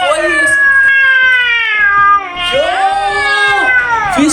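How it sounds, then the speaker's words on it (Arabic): A black cat meows loudly and up close in long, drawn-out, wavering cries, two or three in succession with a brief pause between. "يوسف استغرب من صوت القطة اللي سمعها"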